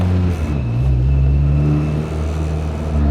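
A car accelerates onto a freeway, its engine holding a loud, steady drone as the revs climb, with no talking over it.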